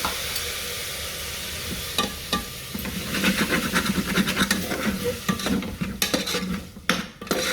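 Chopped tomatoes going into a hot pan of chana masala, stirred with a spoon: bright crackling sizzle with repeated scraping and clinking of utensil against metal, close and busy, no voices.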